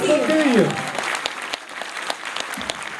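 A festival audience at a Ukrainian concert claps after the opening number, dense applause following a fading sung note, continuing steadily with a voice coming in over it.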